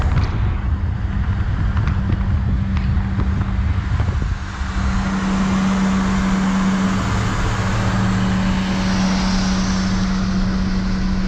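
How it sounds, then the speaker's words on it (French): A BMW E30 with a leaking exhaust manifold drones on the road from inside, a loud steady low rumble with a raspy exhaust edge, a brief dip near the middle and a sustained hum after. "c'est au niveau de la descente de collecteur qu'il y a une fuite d'échappement"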